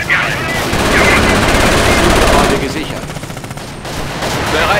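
Gunfire in the World War II strategy game Company of Heroes on the German side at Stalingrad: sustained loud volleys and rattling bursts throughout, mixed with battle noise and a voice heard over the top.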